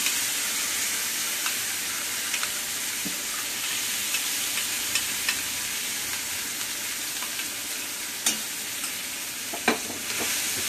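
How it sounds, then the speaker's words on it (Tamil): Brinjal chutney sizzling and frying steadily in a hot pan, a continuous close hiss with faint stirring scrapes and small pops, no voices. "கத்திரிக்காய் சட்னியை ஊற்றணும்"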